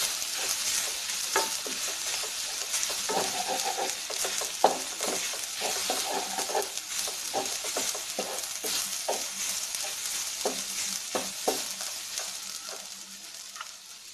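Grated coconut and spice powder are stirred in a hot pan, giving a steady soft sizzle with repeated scraping taps of the spoon against the pan throughout.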